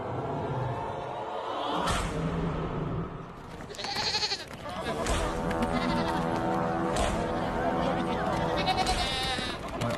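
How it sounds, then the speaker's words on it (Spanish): A herd of goats bleating, many overlapping calls rising and falling over several seconds, with a voice speaking through the bleats. "eso se parece mucho a un rebaño de cabras"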